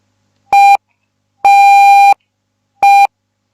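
Loud, clean electronic Morse code tones play as a teaching demonstration: a short beep, a long one, then another short beep, separated by silent gaps.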